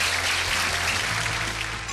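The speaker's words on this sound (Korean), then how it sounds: "큰 박수 부탁드립니다" An audience claps to welcome a speaker onto the stage: dense, steady applause from many hands, filling the room throughout.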